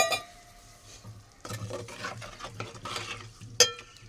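Egg curry with chili powder is stirred and fried in a pan, giving a close scraping stir with a low sizzle beneath and a sharp clink of a utensil near the end.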